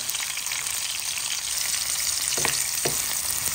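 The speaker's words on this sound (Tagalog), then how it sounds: "Isusunod ko na po ang ating sibuyas at ang ating luya." Garlic, onion and ginger sauté in a pan for mixed vegetables, a steady close sizzle with a couple of sharp clinks from the spatula near the end.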